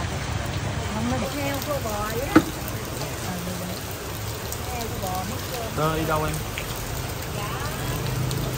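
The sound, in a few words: rain falling while riding in the rain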